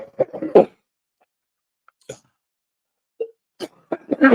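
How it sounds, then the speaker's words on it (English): A person coughs harshly in several separate bursts, close and loud, with a cluster at the start, isolated coughs in the middle and a final run, separated by near-silence. "This is the worst cough of my life ever."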